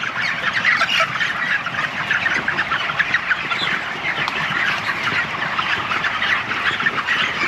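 A flock of chickens fills a poultry house with dense, continuous clucking and squawking, many birds calling at once at close range with no voices.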